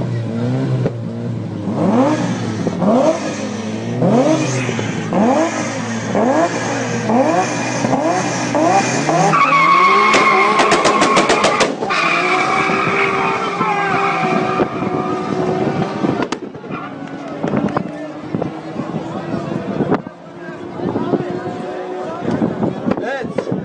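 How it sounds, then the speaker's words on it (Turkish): A car with a Supra engine at a hippodrome slalom race revs hard again and again, rising and falling in loud repeated bursts, then holds a high roar before settling into rough idling and crackles. "Bu arabada bir Supra motoru var."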